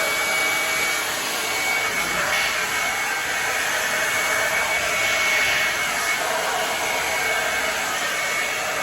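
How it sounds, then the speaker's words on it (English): A hair dryer blows on curly hair being dried, a loud, steady close roar of rushing air and motor whine that holds unbroken throughout, with no talking. "I'm gonna go and just finish drying my hair."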